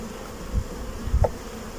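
A dense, steady hum of many honeybees buzzing close by at an open hive during inspection, with a few low thumps and brief handling noises.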